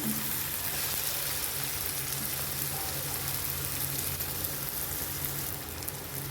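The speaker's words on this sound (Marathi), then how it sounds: "टमाटा आपला होऊन द्यायचा आहे जरा थोडा परतून द्यायचं आहे त्याला छान" Tomatoes being sautéed in a pan for upma give a steady, even frying sizzle that carries on without a break for the whole stretch, close and moderately loud, with no speech over it.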